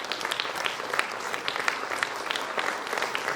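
Dense, steady applause from a conference audience greets the chief guest in Vadodara, a continuous crackling patter of many hands with no talk.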